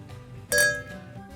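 Wine glasses touched together in a toast over Israeli Cabernet Sauvignon, giving one bright, ringing clink with a short shimmering decay in a quiet room.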